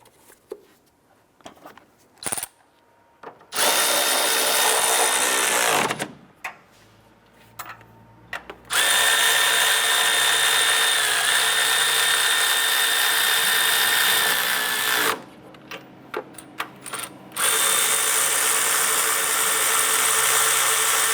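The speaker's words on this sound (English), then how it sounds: "Once these are on, we'll go ahead and snug them down." Power tool snugging down nuts on a 2001-2005 Honda Civic during crankshaft position sensor replacement, running in long loud whirring bursts separated by pauses and small clicks.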